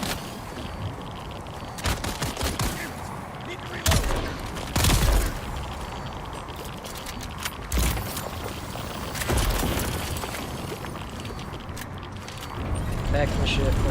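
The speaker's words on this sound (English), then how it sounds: "Stop shooting me." Gunfire in the video game Dune: Awakening, with several sharp loud shots and short volleys spread across a busy game background, and speech in places.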